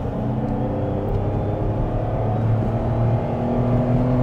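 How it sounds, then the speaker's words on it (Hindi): A Nissan Magnite with an automated manual transmission accelerates hard, its engine droning steadily and loudly from inside the cabin for several seconds, with no talk over it. "इस गाड़ी के साथ अगर आप हार्ड एक्सेलरेशन करते हैं ना तो ये फ्लोर में काफ़ी ज़्यादा वाइब्रेशन फील कराती है।"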